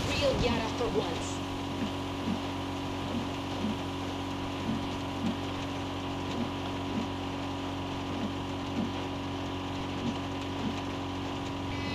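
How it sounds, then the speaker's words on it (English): Steady rain patters in the Far Cry 6 video game world, a constant soft wash heard alongside a low engine drone and faint regular thumps. "Oh, it is raining."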